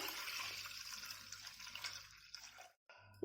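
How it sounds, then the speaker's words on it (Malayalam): Water pours into a pressure cooker being readied for steaming rice puttu, a splashing stream running for a few seconds before cutting off abruptly, then a brief clatter at the end. "ഇതുപോലെ ഒരു കുക്കർ എടുത്ത് അതിലേക്ക് നമുക്ക് ആവശ്യത്തിനുള്ള വെള്ളം ഒഴിച്ചു കൊടുക്കാം"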